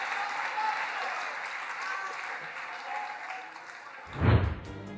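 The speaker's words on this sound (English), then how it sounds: "This statement of his drew applause from the crowd." Crowd applause at a JD Vance political rally, a sustained, fairly distant wash of clapping with a voice running underneath, ending in a louder burst near the close.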